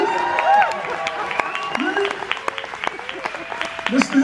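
Concert crowd claps and cheers during a live vocal group show, scattered sharp claps under voices, talking and sung tones from the stage.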